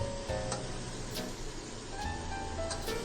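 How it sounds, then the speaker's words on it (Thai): Catfish stir-fried with green curry paste sizzles steadily in a hot pan, with a few sharp scraping clinks of the spatula breaking through the even crackle, moderately quiet and with no talking. "ผัดออกมาเลยครับ"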